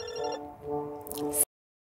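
A phone call ring in the video game Parasocial, a short electronic ringtone with a couple of tonal pulses that cuts off abruptly into silence.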